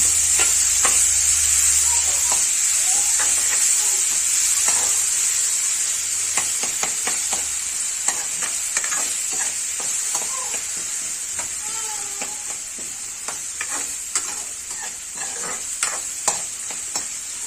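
Grated karonda is dropped into hot oil with peanuts and stirred in a pan, producing a loud continuous hiss and crackle with repeated sharp scraping strokes of a spatula, no voices.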